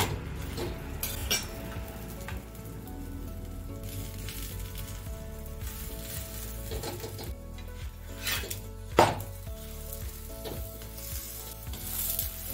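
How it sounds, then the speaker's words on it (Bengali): Cauliflower-stuffed gobi paratha frying in a pan with a little refined oil, a close sizzle mixed with repeated scraping and rubbing of a spatula against the pan and an occasional metallic clank, no speech. "অল্প অল্প করে একটুখানি রিফাইন অয়েল দিয়ে ভেজে নিচ্ছি"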